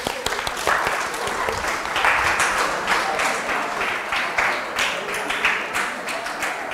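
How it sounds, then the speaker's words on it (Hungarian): An audience applauds a young girl at a live physics demonstration show, steady dense clapping sustained for several seconds at close range with no speech over it. "Jó, hát tapsoljuk meg a kis hölgyet."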